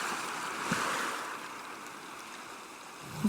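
Sea waves wash onto Marina beach in Chennai on a crowded Sunday, a soft, faint surf hiss with no voices.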